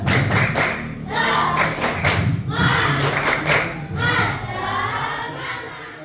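Classroom of children standing and doing a rhythmic clapping chant, loud bursts of hand claps and thumps in repeated groups with shouted voices, close and filling the room.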